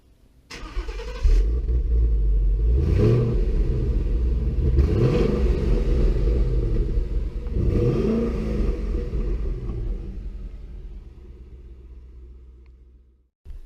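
A 2016 Ford Mustang coupe's V8 with stock exhaust cranks and fires up loudly, blips through a few rising revs, then settles into a deep rumbling idle that fades before a brief final burst.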